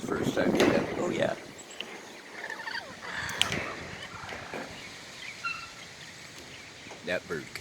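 Harsh, squawking calls from a Silver's parrot family in Hawaii, several bursts scattered over noisy background with people talking nearby.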